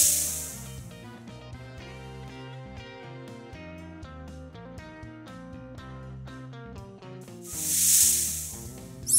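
Snake hissing, a short airy hiss at the start and a longer, louder rising-and-fading hiss near the end, both over light background music playing steadily throughout.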